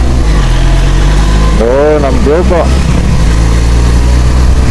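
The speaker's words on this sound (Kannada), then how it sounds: "D B killer ತೆಗೆದ್ಬಿಟ್ಟವ್ರೆ ಸೈಲೆನ್ಸರ್ಗೆ" A loud, steady motorcycle exhaust rumbles nearby with its dB killer removed from the silencer, a deep continuous engine note heard throughout while a voice briefly calls out.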